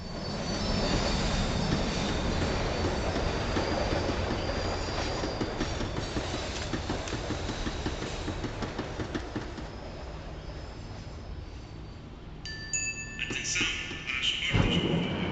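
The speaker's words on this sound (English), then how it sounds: "The tram was slowing down, and I'd only just gotten on board." A tram in the Max Payne 3 video game rumbles and clatters along rails as it slows, steady and loud throughout, with wheels squealing and screeching near the end.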